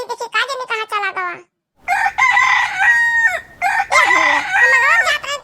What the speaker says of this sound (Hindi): मैया ना जाने कहां चला गई मुर्गावा हमार